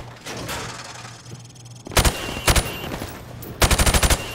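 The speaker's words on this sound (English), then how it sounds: "I want you to shoot the targets through the wood." Loud automatic gunfire in Call of Duty Modern Warfare Remastered, shooting through plywood targets on a training range: three close, rapid bursts of several shots each, the longest at the end, with game ambience between.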